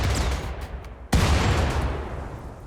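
A firefight in the video game RimWorld on an extreme desert map, with turrets defending: faint crackling shots, then one sharp, loud blast that decays slowly into a rumbling tail.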